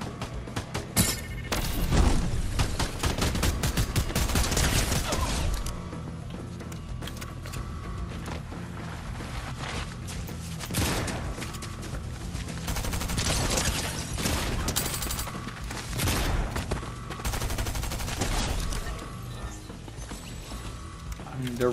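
Rapid automatic gunfire from a high-recoil weapon in a shooting video game rattles in dense bursts with mechanical clatter and thuds, loud and nearly continuous, while players talk over it.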